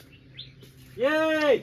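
A large dark parrot gives a single loud, drawn-out harmonic call lasting about half a second, close by, following brief faint chirps and a short spoken word.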